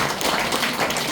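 Audience clapping together at a church revival lecture, a dense, steady wash of applause filling the whole moment without pause.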